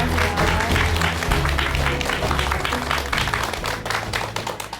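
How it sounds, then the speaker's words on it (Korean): An audience applauds a speaker being welcomed onto a stage at a Korean lecture, a dense, steady burst of many hands clapping together that holds for several seconds and tapers slightly at the end. "여러분들 큰 박수 부탁드립니다"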